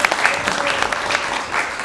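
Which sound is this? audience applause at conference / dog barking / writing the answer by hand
audience applause at conference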